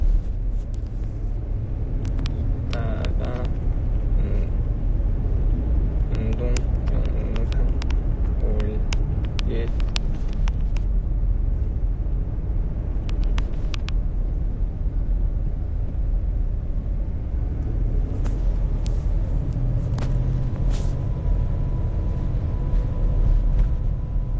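A car drives along a road, heard from inside as a steady low engine and road rumble that carries on throughout, with people talking over it.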